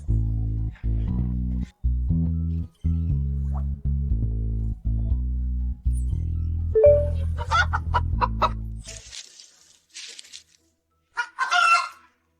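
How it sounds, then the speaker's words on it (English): Chickens cluck loudly nearby in a rhythmic series of low, repeated calls, followed by sharper, higher squawks and flutters before fading into short bursts near the end. "It's a chicken. There are chickens nearby."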